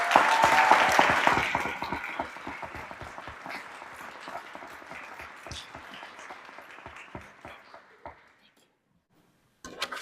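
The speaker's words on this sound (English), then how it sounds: "Please give our speech and debate team a big round of applause" A school recognition-ceremony audience claps for a speech and debate team, a dense burst of applause that starts loud, thins over several seconds and dies out near the end.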